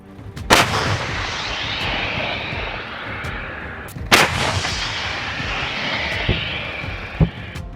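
Artillery fire in a barrage of missiles and shelling during the Russia–Ukraine war: two sharp, loud blasts about four seconds apart, each trailing into a long rumbling roar, with a dull thud late in the clip.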